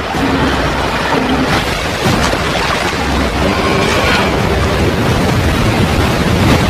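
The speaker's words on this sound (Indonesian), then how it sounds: "mereka dihadang derasnya sungai dan curamnya air terjun" A rushing river and waterfall in the jungle film Apocalypto, a steady broadband roar of churning water that stays loud and unbroken throughout with no voices.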